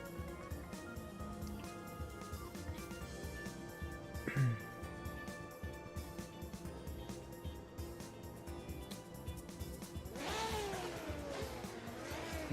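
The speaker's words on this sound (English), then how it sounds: "Noisy car." A loud race car engine in a racing video game drones steadily throughout, with a brief tire screech and a rising high-revving whine near the end.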